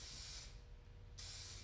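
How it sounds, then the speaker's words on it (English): An aerosol sealer spray can giving a fan spray over a taxidermy mount: two close hissing bursts, one at the start and another after a short pause, over a low steady background rumble. "Now, nothing more than an aerosol. Gives you a really nice fan spray."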